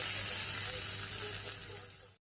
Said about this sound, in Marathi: फोडणी न करपता पटकन या चटणीवर घालायची।